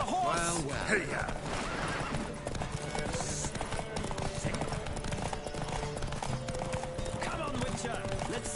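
Horses whinny and neigh over rapid clip-clop hooves during a horse race in The Witcher 3, with continuous galloping, game music and voices shouting throughout.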